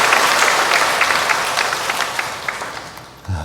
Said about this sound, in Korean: 환영의 박수로 맞이해 주시기